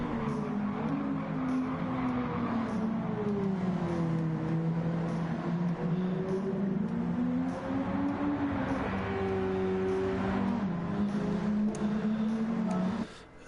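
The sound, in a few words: car exhaust note in the video game Gran Turismo 7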